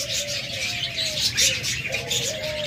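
Lovebirds in a pair chirp and whistle continuously, a bright chattering mix of thin sliding whistles and harsh chirps, close by, with a busy background of other caged birds.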